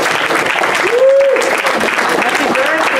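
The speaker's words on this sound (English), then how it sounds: "How about a big round of applause for Cliff" A loud, full round of applause from a gala audience, many hands clapping steadily throughout, with voices and a brief cheer or whistle rising above the clapping.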